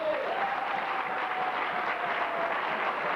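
A church congregation applauds during a Saturday service, the clapping dense and sustained throughout, with a faint voice carrying over it.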